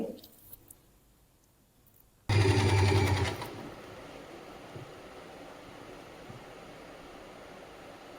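A sewing machine runs a stitch along the back fabric of an Afghani salwar: one loud, steady burst of about a second after a quiet start, then a low background hum and rustle.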